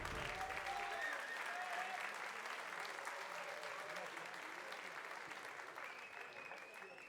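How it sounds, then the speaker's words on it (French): Crowd applause at a Muay Thai fight night congratulating both fighters' teams in the ring, sustained clapping at moderate distance that slowly fades, with faint tonal sounds and voices underneath. "Félicitations, on peut les applaudir."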